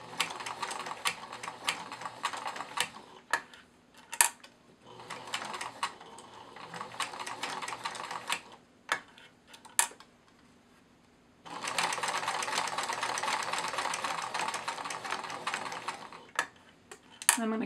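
A sewing machine stitches fabric for a plush otter in several rapid mechanical bursts separated by short pauses and clicks, with a long steady run of stitching near the end, close and clear with no talk.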